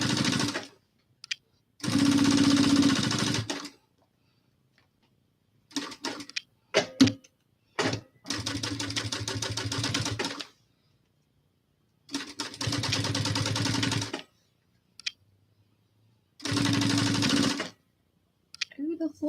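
A sewing machine stitches folded backpack fabric in several separate bursts of rapid mechanical whirring. Each run lasts one to three seconds, with silent pauses and short stretches of someone talking between them.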